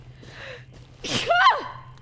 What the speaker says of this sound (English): I just sneezed so hard.